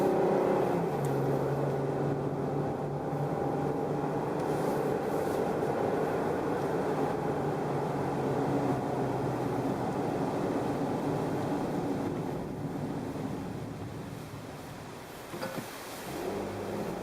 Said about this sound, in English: You can almost hear the engine lugging, and then I add throttle, and it bumps down into the right gear.